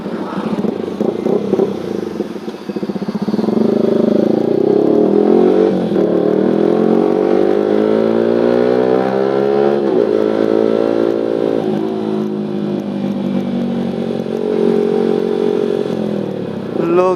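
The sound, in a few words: motorcycle engine while riding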